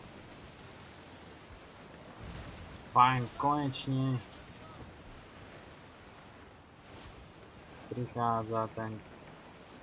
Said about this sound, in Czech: Ó, ale sú vlny.